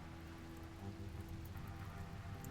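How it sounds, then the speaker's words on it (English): Steady rain falls in the colony-sim game RimWorld, a dense, even hiss of drops that holds constant from start to finish with no voices over it. "So let's hope this fire goes out from the rain."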